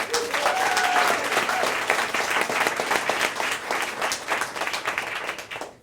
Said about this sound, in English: Please, round of applause for Dan.